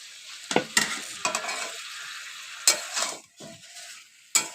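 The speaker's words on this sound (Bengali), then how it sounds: "সবজিগুলোকে কষিয়ে নিচ্ছি।" Mixed vegetables with fried hilsa fish heads are stirred and sautéed in a pan, with sharp spatula scrapes and clanks over a steady sizzle at close range and no talking.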